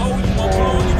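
A large, powerful car's engine drones steadily and loudly from inside the cabin while the car is driven hard and slid around corners, with a continuous low hum that does not let up.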